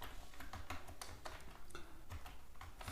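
Soft, quick keystrokes on a computer keyboard typing commands in an Ubuntu terminal, a faint irregular run of clicks with brief pauses and no voices.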